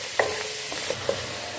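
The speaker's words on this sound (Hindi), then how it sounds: "अब इसमें हम लहसुन अदरक या हरी मिर्च कूटे वो डाल लेंगे और इसको भी हम फ्राई कर लेंगे।" Crushed garlic, ginger and green chilli fry in a pan for a kachnar keema, giving a steady sizzle with a few light stirring scrapes and clicks, close by and with no speech.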